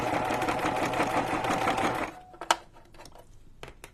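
A noisy, worn sewing machine back stitches in a steady rattling run for about two seconds, then falls quiet apart from a few sharp clicks and knocks from handling.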